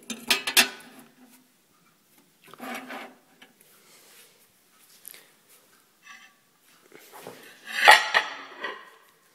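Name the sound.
microwave turntable plate and pivot being put back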